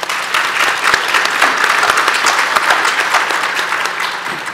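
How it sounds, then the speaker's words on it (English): An audience at a Texas county legislative conference applauds steadily, a dense, loud wash of many hands clapping that holds at an even level throughout, with no voices over it. "Let's give them a big round of applause."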